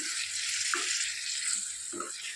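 Tomato puree sizzling and frying in a pan while being stirred, a steady bright hiss throughout with a few soft scraping stirs near the start and end.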